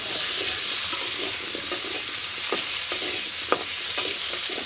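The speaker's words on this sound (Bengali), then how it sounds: "আলুগুলো লাল লাল করে ভেজে নিই।" Potatoes frying in oil in a home kitchen, a continuous close sizzle with soft crackles and a couple of sharp utensil taps near the end.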